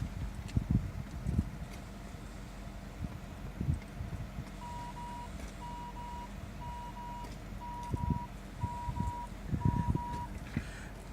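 A 2018 Hyundai Kona's rear cross traffic assist warning, a series of six evenly spaced, moderate electronic beeps over steady wind and low rumble outdoors.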